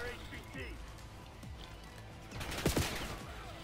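Gunfire in the Black Ops 6 beta: a quick cluster of sharp shots rings out near the end, over a steady game backdrop while players talk.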